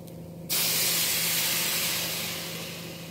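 Water poured into a pot of rice lightly fried in ghee starts abruptly after a quiet moment, then a loud steady hissing rush that tapers slightly toward the end.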